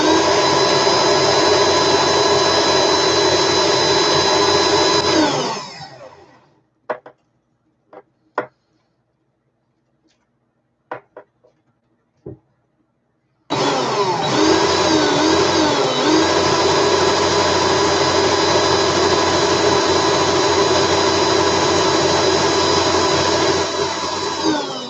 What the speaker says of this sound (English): I'm going to put my drill speed up a bit, just so I can get this done quicker.